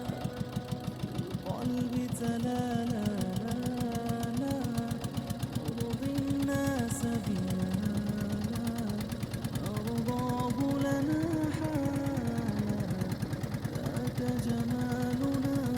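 A trawler's engine runs steadily through a boat ride off St. Martin's Island, a continuous low chugging drone with a rapid pulse that holds close and loud from start to finish.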